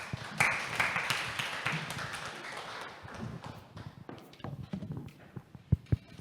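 A conference audience gives a dense round of applause that gradually thins into scattered claps and a few louder taps.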